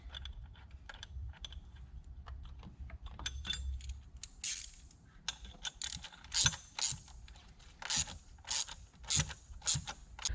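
A hand ratchet clicks in short, uneven bursts close by while a bolt is reinstalled through a JLT bracket on a 2013-2018 Ford Edge 2.0L EcoBoost, with faint metallic handling noises between strokes.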